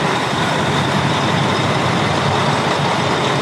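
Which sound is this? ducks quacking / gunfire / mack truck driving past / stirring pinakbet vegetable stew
mack truck driving past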